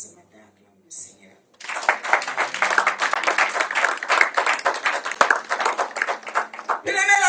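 A church congregation at a Sunday service claps to acclaim the Lord, steady dense applause sustained for several seconds after a short pause, filling the room.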